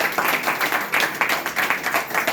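Audience applause at a testimonial gathering about mental disturbance and paralysis, a steady, dense patter of many hands clapping together with rhythmic swells, fairly loud and continuous with no speech over it.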